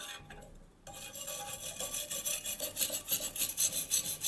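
A wire brush scrapes hard across the metal of a homemade mini military stove, a quiet gap giving way to steady, rhythmic rasping strokes that repeat close up with no talk.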